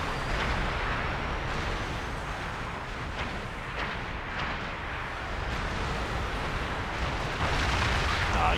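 A ship explodes in a naval combat video game, a dense, sustained roaring rumble of blast and debris that fills the mix steadily and swells again near the end.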